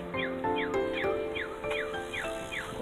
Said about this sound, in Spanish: Cuando suena así y se ve esa cosita que está ahí, verde, es paso para el peatón.